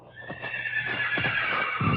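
A horse whinnies in a long, high, wavering neigh on a moonlit night in an old radio drama, with a few soft hoof clops underneath, moderately close.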